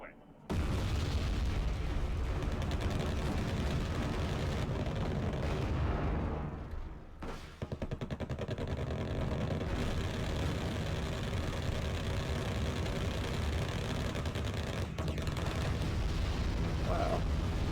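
Bombs and artillery explode in Wargame: Red Dragon, a dense, loud, continuous rumble of blasts and booms with a brief lull partway through, while a voice talks over it.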